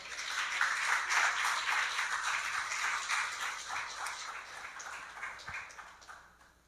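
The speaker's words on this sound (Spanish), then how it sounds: "Dale un aplauso a Cristo, hermano" A church congregation applauding together during a sermon, a steady, dense patter of many hands that holds for several seconds before tapering off near the end, with no talk over it.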